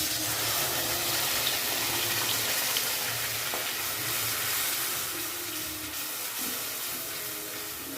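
Raw carrot paste sizzles in hot ghee in a kadai for a Bengali carrot sweet, a steady close frying hiss that carries on evenly throughout and eases slightly toward the end, with no talk over it.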